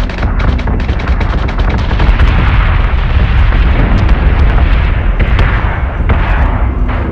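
Warship guns firing in the space combat game Battlestar Galactica Deadlock: a continuous, loud rumble of heavy booms and explosions, with sharp bursts layered over a dense, roaring background throughout.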